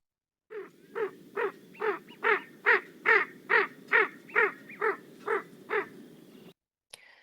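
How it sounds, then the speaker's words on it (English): Male ring-necked duck display call: a run of about a dozen evenly spaced, hoarse, croaking notes in a steady rhythm, clear and moderately close, followed by a brief faint sound after a pause. "And here's the male display call."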